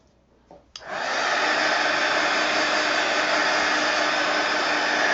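A hair dryer switches on after a faint click and runs at a steady, loud, close roar, drying wet paint on a mixed media craft piece; no talking.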